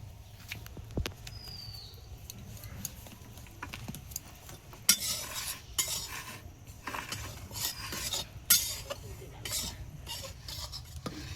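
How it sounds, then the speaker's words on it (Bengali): Rice flour being dry-fried and stirred in a pan for village-style steamed rice cakes wrapped in banana leaf: soft scraping and rasping strokes, irregular and close, growing busier in the second half, with no talking. "চালের গুড়টা দিয়ে দিচ্ছি ভাজার জন্য অল্প অল্প করে ভেজে নেব"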